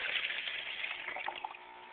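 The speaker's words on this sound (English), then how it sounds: "So you take a pitcher, half a liter of water measured out, pour that in the container." Half a liter of water pours from a pitcher into a plastic container for a hatchery setup, a steady gushing stream that thins into a few trickles and gurgles at the end.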